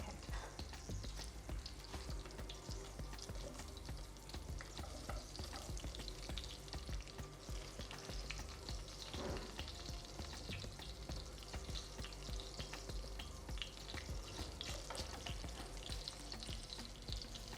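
Sausages sizzle and crackle steadily in hot oil in a pot, a loud continuous fry with dense popping throughout and no talking.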